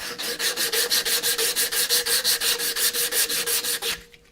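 Rhythmic back-and-forth strokes of 120 grit sandpaper against a hand-carved wooden spoon, about two scrapes per second, steady and close, stopping abruptly near the end.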